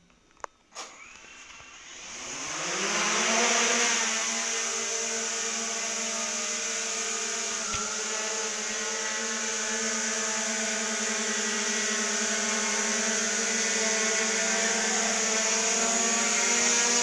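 A Hubsan Zino 2+ drone spins up indoors and hovers, its propellers rising into a steady, loud whine and buzz that holds evenly for the rest of the stretch, after a few faint clicks at the start.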